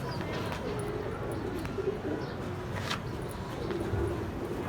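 Pigeons coo softly and repeatedly over steady outdoor background noise, with occasional faint chirps and low murmuring voices in the distance.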